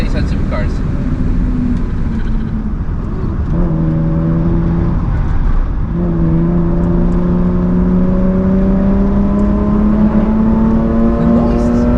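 A Mercedes E36 AMG W124 Cabriolet engine at high speed on the Nürburgring, passing under a bridge: a loud, steady drone that climbs in pitch as it accelerates, with a voice talking over it.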